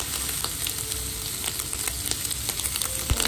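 Sausage bacon sizzling and spitting in a pan with occasional stirring scrapes, loud, close and continuous, with no voices.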